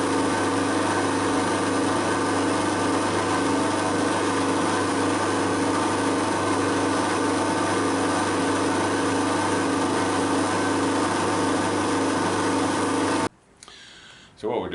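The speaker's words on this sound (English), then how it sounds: "we're just going to do the drilling for the right angle bracket that holds the pickup" Drilling holes for a right-angle pickup bracket while fitting a digital tachometer to a lathe, a steady loud machine drone running continuously for about thirteen seconds before cutting off abruptly into brief quiet.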